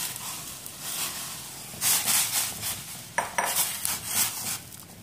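Rice noodles for bánh canh dropped into a pot of boiling water: bright clattering bursts of metal and utensils over a low, bubbling hiss, close and uneven, without talk.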